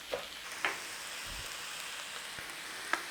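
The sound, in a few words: minced beef and onions frying in a pan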